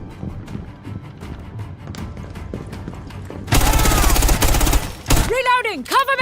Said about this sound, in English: The sound effects from gunfire to footsteps are crisper